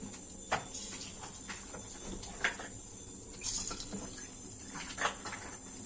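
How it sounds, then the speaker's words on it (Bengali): Battered jackfruit pakoras fry in hot oil in a kadai, a steady high sizzling hiss with occasional soft pops and bursts as pieces are added. "এইভাবে সব আমি পকোড়াগুলোকে ভেজে নেব।"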